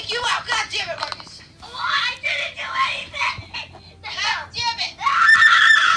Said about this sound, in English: His screams are satire.